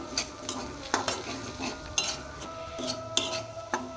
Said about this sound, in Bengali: দিয়ে এবার আমি নাড়তে থাকবো, সব একসাথে আমি নাড়তে থাকবো